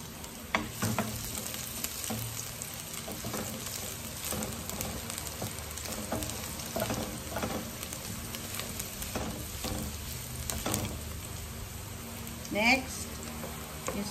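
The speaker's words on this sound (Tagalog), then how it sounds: "Pinapainit natin yung ating mantika. Mainit na. So, lalagay natin yung bawang." Garlic fries in hot cooking oil with a steady, close sizzle and intermittent stirring scrapes throughout, while a bird coos briefly in the background near the end.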